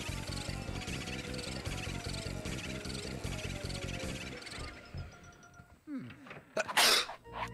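A single loud, sharp sneeze bursts out near the end, after several seconds of steady, rhythmic video game music and sound effects from Luigi's Mansion on the Nintendo 3DS.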